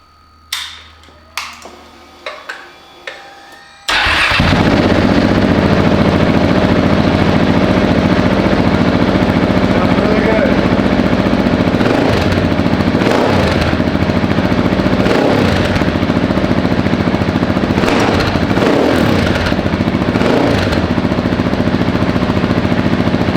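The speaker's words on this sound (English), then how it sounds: "Let's start it up and see if it makes any difference in the sound of the bike." A Husqvarna 701 Enduro single-cylinder motorcycle fitted with a Rottweiler performance intake, idling loud and steady at close range for about twenty seconds with a few revs, after a brief run of sharp mechanical clicks and clanks just before it fires up.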